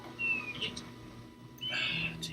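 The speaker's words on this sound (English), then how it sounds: "Tingle can hear gulls." Gulls cry in The Legend of Zelda: Majora's Mask, two short high, thin calls separated by a pause over a quiet low game background.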